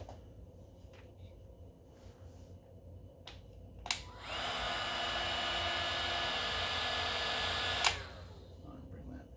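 A heat gun blows hot air to shrink tubing over a Type-N connector on LMR-500 ultra flex coax, a steady whooshing hum switched on with a click, running about four seconds, then clicked off in a quiet room.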